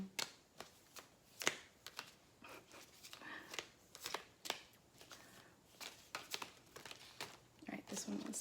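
Tarot cards being shuffled close up, a steady run of crisp riffling snaps and soft papery slides repeating throughout, fairly quiet and with no voice over it.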